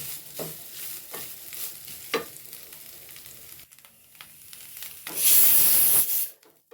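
Jackfruit seeds frying in a pan, with bursts of sizzling and stirring scrapes, a brief lull, then a loud sharp hiss near the end before it cuts off.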